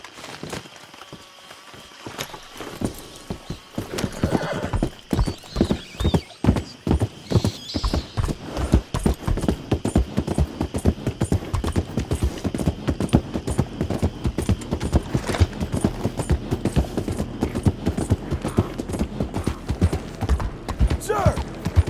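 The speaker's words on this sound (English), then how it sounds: "the horse missed us and is running to greet John" A horse gallops in the Red Dead game with John Marston, steady rapid hoofbeats close and loud for most of the stretch, with an occasional whinny and faint speech in the background.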